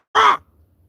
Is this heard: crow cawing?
yes